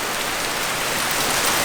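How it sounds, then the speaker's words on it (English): Hail pounds on trucks in a dense, loud, continuous roar of impacts during a storm, with no voices. "Hopefully this hail doesn't get any bigger, and hopefully it stops here soon."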